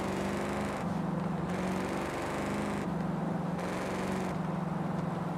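The Ford Mustang GT350 V8 in Forza Horizon 5 hums at a steady low pitch, then steps up and down with throttle changes and gear shifts, a continuous buzzing drone without voices.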